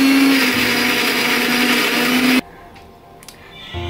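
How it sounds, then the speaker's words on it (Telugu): Mixer grinder blending coriander and mint for chutney, a loud high whirring motor for about two seconds that stops abruptly, followed by quiet handling clicks. "ఇప్పుడు ఇదంతా మిక్సీ పట్టుకోవాలి."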